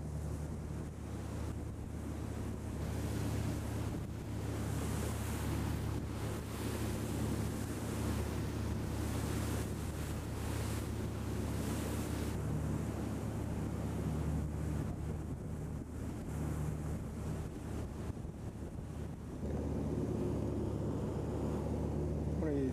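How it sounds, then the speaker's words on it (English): Wind buffets a motor cruiser at sea off Sandy Hook, a constant rough rush over the microphone with waves washing against the hull and a low engine drone beneath. "That wind's pushing us right along."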